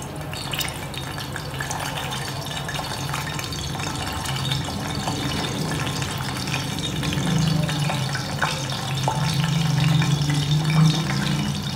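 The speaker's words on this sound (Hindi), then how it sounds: "चिकन को मैंने एक तरफ से फ्राई करके उसकी साइड चेंज कर ली है।" Chicken pieces frying on a tawa for creamy tawa chicken, a steady close sizzle and crackle throughout, with a low bubbling tone that thickens toward the end.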